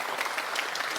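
Brief burst of steady clapping from an audience, a dense even patter of many hands at moderate loudness with no talk over it.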